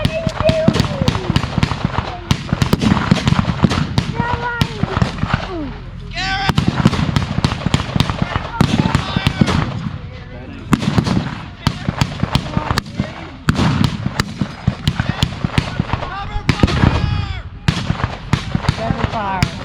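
Dense, crackling gunfire at a war reenactment: many rapid, overlapping rifle and small-arms shots near and far, popping in bursts for the whole stretch, with people shouting and talking underneath.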